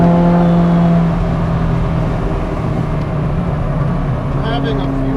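A Ferrari F40 engine drones steadily from inside the car on a mountain road, loud and close, as it pulls under acceleration with a voice speaking over it.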